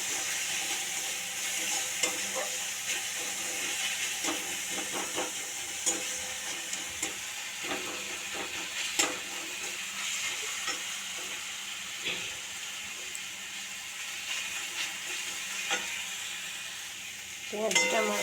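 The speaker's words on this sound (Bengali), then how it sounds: "এবার কাঁচা পেঁয়াজটা একটু ভাজা ভাজা করে নেব।" Raw onion frying in a pan, a steady close sizzle running throughout with repeated scraping and clinking as it is stirred, the stirring getting louder near the end.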